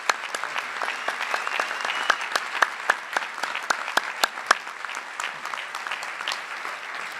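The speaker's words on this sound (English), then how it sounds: "let's give one more round of applause for all of the honorees" Steady applause from a large audience, many hands clapping continuously for several seconds at an even, fairly loud level.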